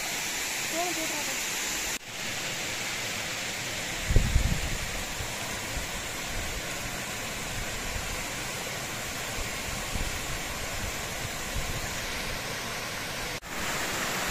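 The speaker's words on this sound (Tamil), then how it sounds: "தண்ணி ஃபால்ஸ் ஆண்ட வந்து இப்போ வந்து உட்காந்துட்ருக்கோம்" A waterfall rushes steadily nearby, a constant broad roar of falling water with a brief thump partway through.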